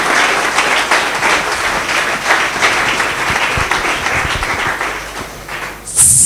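A church congregation applauding, a dense steady wash of many hands clapping throughout, fairly loud and close, with a brief sharp sound at the end.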